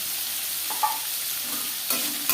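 Chopped onion hits hot oil in a pan alongside potatoes for a mushroom curry, giving a steady close sizzle with a few light stirring taps on top.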